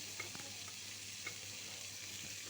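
Greens are stirred into Assamese fish curry in a pan, a soft steady sizzle with occasional light utensil taps and scrapes, fairly quiet and with no talking.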